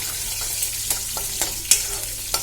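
Cumin, mustard seeds, curry leaves and coarsely crushed garlic frying in hot oil for cabbage dal, a steady close sizzle broken by scattered sharp pops and crackles.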